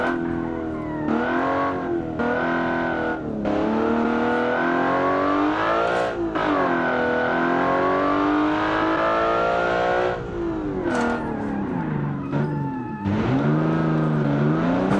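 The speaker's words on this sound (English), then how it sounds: "this car revs really high" Rally car engine in a city-streets rally video game set in Italy, revving high and continuously with rising and falling pitch, loud and close, with brief gear-change dips and no talk.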